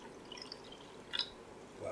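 Water is poured from a jug inside a quiet room, heard as a faint, brief trickle and splash near the middle, with a soft drip toward the end.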